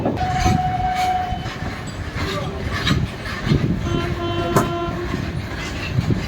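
Onboard the Sealdah–Puri Duronto Express, a steady loud rumble of rolling wheels with rhythmic clatter and a few tonal horn-like notes, with voices talking faintly underneath.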